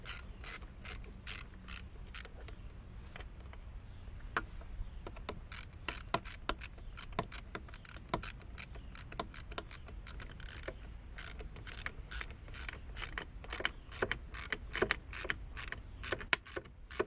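A ratchet wrench tightens the head bolts on a 9.5 hp Evinrude outboard, giving rapid, close clicking in irregular bursts with short pauses between strokes.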